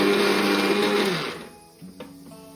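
A mixer grinder whirs loudly while spinning ingredients for an oil-free pickle, then winds down and stops after about a second and a half. A faint clunk follows.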